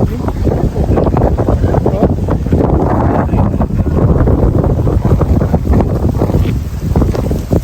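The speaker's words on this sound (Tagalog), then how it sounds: "Lakas ang hangin." Strong wind roars and buffets the microphone steadily near the sea during night fishing, a constant loud rumble with faint voices underneath.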